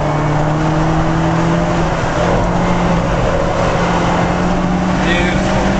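A BMW race car engine drones steadily at speed on track, a loud sustained tone with slight pitch shifts, while voices talk over it.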